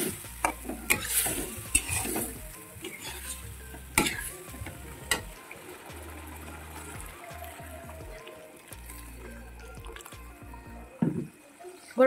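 Spices added to lightly browned fried potatoes in a pan, with a soft sizzle under scattered spoon stirs and clinks against the pan, fairly quiet and intermittent.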